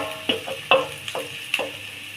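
A potato fry with ginger, garlic, green chili, salt and sambar powder is stirred in a pan, with four or five distinct spoon scrapes over a soft, continuous sizzle, close up and without talk.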